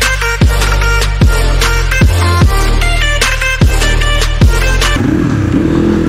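A Crossfire RM250 supermoto engine revs loudly and repeatedly on a road ride, each rev rising then dropping as gears shift, ending in a rough, rumbling idle.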